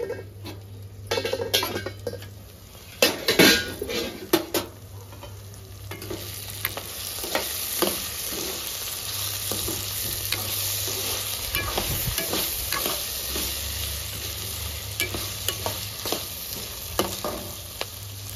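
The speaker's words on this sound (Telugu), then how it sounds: "పప్పు తాలింపు వేసుకుందాం" Spices for tempering dal frying in oil in a pan, a continuous sizzle broken by scraping stirs and clinks of a spoon against the metal, close and fairly loud.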